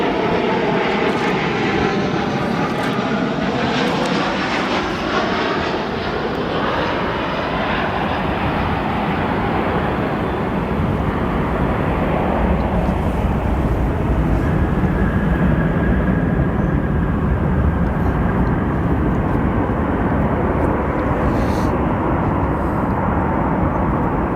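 Airliners approaching to land at Chicago O'Hare International Airport, a loud continuous jet roar sweeping past with falling pitch, then a long steady rumble and whine as the aircraft recedes, no voices.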